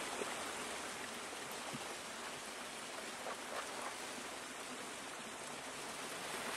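A small waterfall on the Isle of Mull in the Hebrides pours steadily, giving a soft, even rushing hiss that never changes, faint and continuous with no voices.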